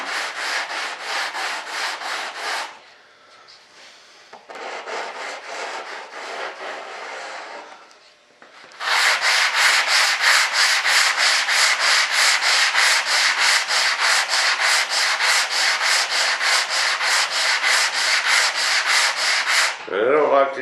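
Sanding a mold for an RC jet B-1 Bomber model: close, raspy abrasive strokes in a steady rhythm, two short bursts with pauses, then a long unbroken stretch of fast back-and-forth rubbing.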